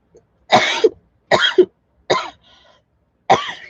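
Four harsh, close coughs in a row, separated by short pauses, the last following a faint throat sound.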